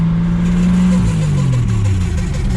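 An old 1948 Studebaker's engine, left sitting for 35 years, roars loudly and steadily up close, its pitch sliding down as the revs drop, rough and rumbling throughout.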